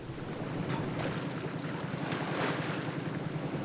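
A sailboat motors along the northeast corner of Lombok, its engine a steady low chug under constant wind and water wash, with no one talking.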